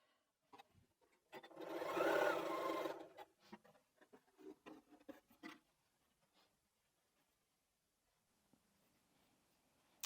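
A home sewing machine stitches fabric for a quilted strip bag in one steady whirring run of about two seconds, followed by scattered clicks and soft handling taps of the fabric before near silence.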